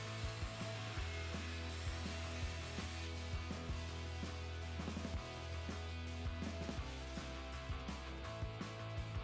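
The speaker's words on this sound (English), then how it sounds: "I then used a polisher with a crimp bevel brush" Polisher fitted with a crimp bevel brush grinding against a metal window frame, a steady motorized whir with scratchy brushing bursts, close and fairly quiet.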